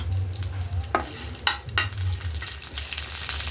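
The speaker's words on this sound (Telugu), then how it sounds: "శనపప్పు కరివేపాకు వేసుకున్నానండి శనపప్పు పోపు" Chana dal and curry leaves tempering in hot oil for tomato chutney, a steady close sizzle with a few sharp crackles and spoon scrapes in the pan, no voices.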